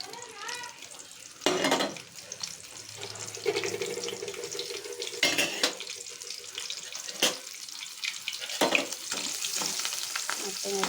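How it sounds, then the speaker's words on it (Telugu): Tempering spices sizzle in hot oil in a pan for pulihora, a steady frying hiss broken by occasional clinks and scrapes, close and without speech. "తాలింపు దినుసులు మొత్తం వేగిపోయినాయండి."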